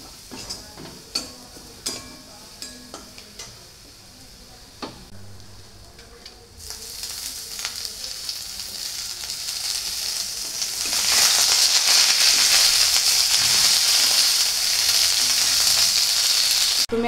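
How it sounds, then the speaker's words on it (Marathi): Green chili paste frying in a pan starts with scattered light taps and clinks, then breaks into a loud, steady sizzle that grows stronger as it is stirred, close by with no voices. "पेस्ट चांगली भाजून घ्यायची"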